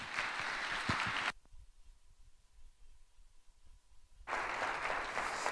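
Audience applause at a Snow College convocation welcomes speaker Shadman Bashir, a burst of clapping that cuts off abruptly, leaves a quiet gap, then resumes at full strength.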